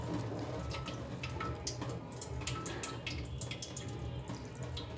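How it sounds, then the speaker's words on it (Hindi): Water runs steadily into a boiler in a home kitchen, a continuous close splashing and trickling with occasional drips and no voices. "ये है बॉयलर, इसमें मैं पानी भरती हूँ।"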